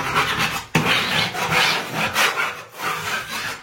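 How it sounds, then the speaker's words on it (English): A handheld scraper drags quickly across a bumpy interior wall in repeated rough, rasping strokes, close and loud, with a brief pause between passes. "I took my scraper and I just went quickly."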